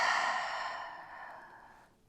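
A long, audible exhale through the nose or mouth during a stretching exercise, breathy and close, fading steadily over about two seconds.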